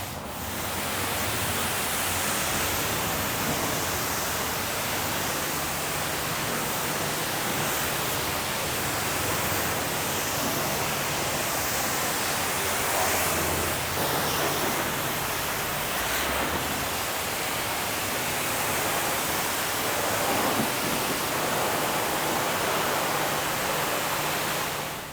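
Water spray rinses a car during detailing, a steady, broad hiss of spraying water that holds at an even level for the whole stretch, with no talk over it.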